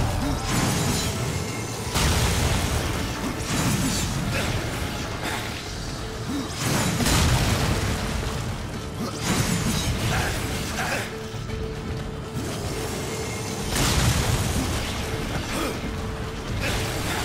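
Explosions and mechanical clanks from the Darksiders 2 video game come in repeated bursts a few seconds apart, loud booms and crashes with grinding, creaking noise between them.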